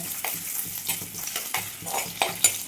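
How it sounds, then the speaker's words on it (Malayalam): Six garlic cloves and a piece of ginger fry in hot oil, a continuous close sizzle with bubbling crackle and repeated soft stirring scrapes, no talk. "ഇതിലേക്ക് 6 വെളുത്തുള്ളി, ഒരു കഷ്ണം ഇഞ്ചി ഇത്രയും ചേർത്ത് കൊടുക്കാം. ഒന്ന് മൂത്ത് വരട്ടെ."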